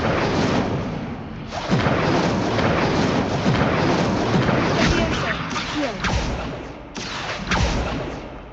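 Casting the Incendio fire spell in Hogwarts Legacy produces a loud, continuous roaring rush of flame with deep booming bursts throughout.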